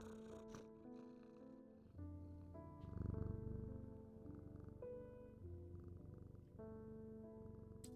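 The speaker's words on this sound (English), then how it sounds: "purring with delight." A cat purrs steadily and softly up close, a low continuous rumble under quiet sustained tones, with no talking.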